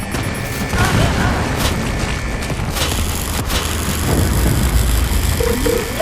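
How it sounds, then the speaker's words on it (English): Grenade explosions and battle noise in Starship Troopers: Extermination: booming blasts and bursts of gunfire over a steady engine-like rumble, loud and close throughout. "Grenade out!"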